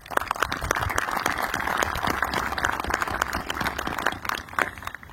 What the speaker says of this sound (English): I'd like to take a second and give them a quick round of applause for all their work